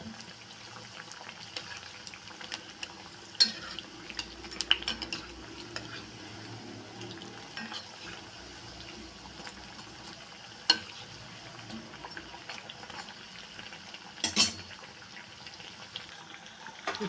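Masala vada frying in hot oil, a low steady sizzle with occasional sharp clinks and scrapes of a utensil turning the fritters, quiet and close.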